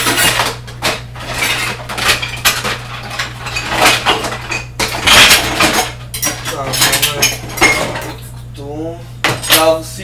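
Dishes washed by hand with Bio Vert dish soap: repeated clinks and clatters of plates, cutlery and glass knocking together, loud and close, over running water and a steady low hum, with a voice speaking now and then.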